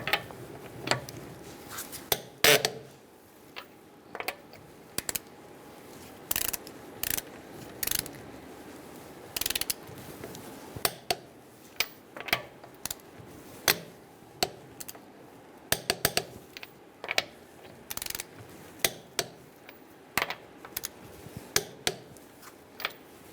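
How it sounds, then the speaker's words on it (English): A torque wrench tightens the front wheel lug nuts on a 2010-2013 Kia Soul to 80 foot-pounds, giving a run of sharp clicks and ratcheting snaps in an uneven rhythm over a quiet garage background. "Now that the vehicle's on the ground, we're ready to torque these wheels to 80 foot-pounds."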